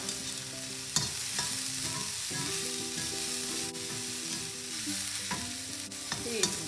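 Coconut being stirred into a frying onion mixture in a pan, a steady close sizzle with repeated spoon scrapes and clinks at an irregular rhythm, no voices, cooking for a South Indian kuzhi paniyaaram breakfast.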